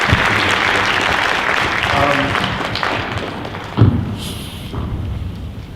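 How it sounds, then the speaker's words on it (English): Audience applause at a community presentation, a dense wash of clapping that fades toward the end, with a thud partway through and people talking over it. "So maybe everybody could give a round of applause to these people."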